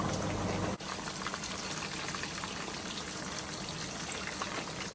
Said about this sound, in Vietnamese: Dầu bây giờ nó bắt đầu sủi tăm như thế này thì Quỳnh sẽ bắt đầu cho thịt vào là được rồi. Chiên thịt ở lửa vừa.